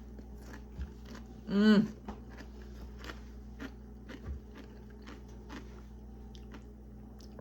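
Someone bites into a chip loaded with dip at a Super Bowl finger-food spread, giving one short crunchy bite near the start followed by soft chewing and a brief murmur of pleasure.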